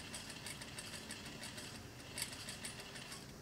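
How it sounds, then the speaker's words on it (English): A sewing machine running a basting stitch on a sleeve seam, a quiet, steady rapid needle chatter with a fine regular ticking rhythm, close by and without talk. "So we're going to sew this basting stitch at a quarter."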